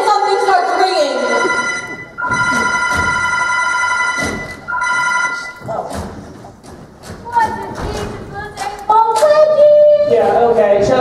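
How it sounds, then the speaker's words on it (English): A telephone bell rings in loud bursts with pauses between, mixed with thumps and people talking over it, during a stage musical performance. "I don't want this number ruined by a ringing telephone"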